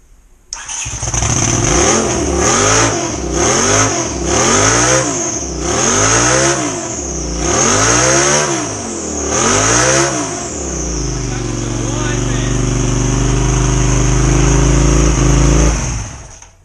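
A turbocharged Honda CX500 engine in a minirod go-kart revs hard in repeated rising and falling bursts, loud and close, then settles into a steady, rough high idle.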